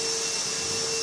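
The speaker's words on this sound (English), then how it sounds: "And yeah, that is a vacuum cleaner." A vacuum cleaner runs in a 24-hour gym late at night, a steady, loud broadband whir with a constant whine holding throughout, alone with no talk.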